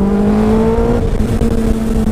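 A Hayabusa motorcycle engine fitted in a Sport 200 car revving hard toward 11,000 RPM, a loud sustained high-pitched whine heard up close with no talking.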